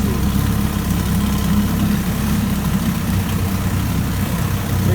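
A near-new 1965 Evinrude 9.5 HP outboard motor running after a cold start, a steady close-up idling putter with dense rapid firing pulses and vibration, unchanging and loud throughout.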